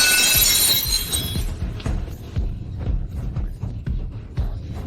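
An antique vase shatters loudly at the start, a bright burst of breaking glassy ceramic in the first second and a half, followed by scattered clinks and thuds of pieces settling.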